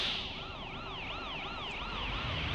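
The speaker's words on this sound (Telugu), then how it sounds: "అక్కడ పక్కన అంబులెన్స్ వస్తుందిరా" An ambulance siren wails in a TSRTC bus driving video game, a rising and falling electronic siren repeating in steady cycles at moderate distance, quiet overall and with no speech.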